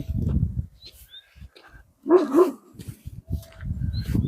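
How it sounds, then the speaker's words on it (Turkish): A large Aksaray Malaklı dog barks a few times nearby, deep and gruff, with scuffling background noise between the barks. "Çok büyük bir köpek bu."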